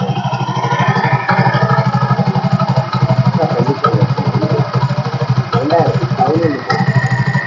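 A 2011 Bajaj Platina 100 cc motorcycle engine idles steadily with a fast, even putter and some mechanical clatter, loud and close, with no voices.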